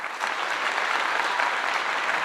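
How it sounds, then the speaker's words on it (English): A crowd claps and applauds in tribute to Martin Luther King, a dense, even wash of clapping that holds steady at moderate loudness for the whole moment, with no talking over it. "Applause for Martin Luther King."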